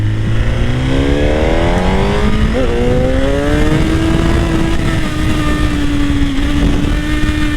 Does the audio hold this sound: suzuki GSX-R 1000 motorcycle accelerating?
yes